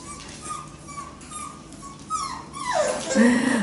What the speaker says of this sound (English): that's why Mako's trying to whine and get to her